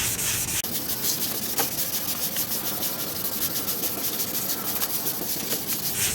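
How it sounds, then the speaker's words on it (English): Yellowed car headlights are hand-sanded in a continuous gritty rubbing hiss with a steady back-and-forth rhythm, close and even, with no talk. "as we sand, most of the yellowing starts to come off."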